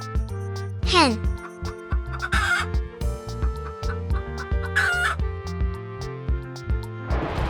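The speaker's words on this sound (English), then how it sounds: "Hen." Farmyard hen clucking in a steady series of close, fairly loud calls with a few higher squawks, over a sustained tonal musical bed.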